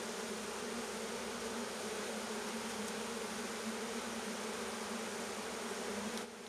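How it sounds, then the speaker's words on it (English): Honeybees swarm around an open hive frame with brood during a queen search, giving a steady, dense, close buzzing drone that holds evenly throughout with no talking. "And look at the size of the bees."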